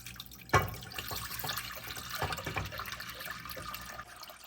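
Tap water for tapioca pudding runs steadily into a vessel after a sharp knock at the start, a continuous close splashing stream measuring out six cups, with no talking.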